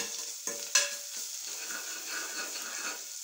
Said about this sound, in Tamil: இப்போ வெங்காயம் வதக்கிக்கிட்டு இருக்கும் போதே இந்த இஞ்சி பூண்டு பேஸ்ட்டு